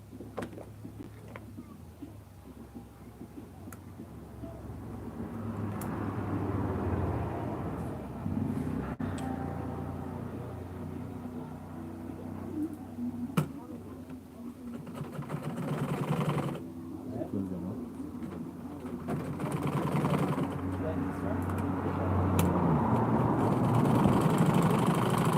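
A sewing machine stitches padding material onto a loafer shoe upper, its motor humming in a low, steady whir for long stretches, broken by brief pauses and restarts, with a speaking voice over it at times.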